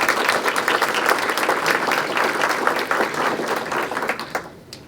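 Sustained applause from an audience at a spring grant celebration, honoring city council members: dense, even clapping that holds steady for several seconds, then tapers and fades near the end.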